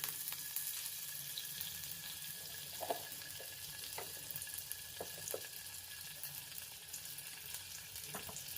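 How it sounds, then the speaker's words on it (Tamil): Butter melts in a frying pan for a butter garlic egg dish, giving a steady soft sizzle and crackle with occasional small pops and light clinks, fairly quiet and continuous with no voices. "பேனில் கொஞ்சம் பட்டர் சேர்த்துடலாம்."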